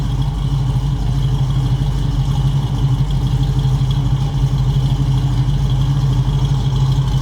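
A 1976 Mercury Monarch engine idling steadily, loud and close, with a low rumbling drone and light mechanical clatter running unbroken and without talk.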